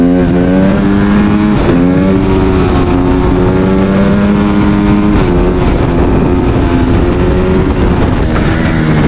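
Honda CRF150RB dirt bike engine running loud and close throughout, its pitch climbing, dipping briefly and climbing again as it shifts into third gear for a wheelie, with no talk.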